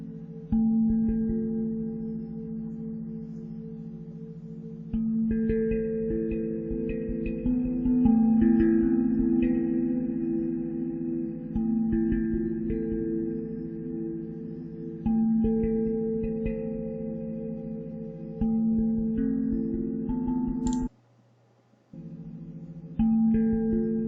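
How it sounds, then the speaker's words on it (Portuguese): Binaural beats meditation audio for focus: steady sustained harmonic tones layered with a low humming drone, shifting pitch in blocks every few seconds, continuous and even in loudness with one brief dropout near the end. "O som que você ouve parece um som normal, mas ele tem essa batida do Binaural Beats."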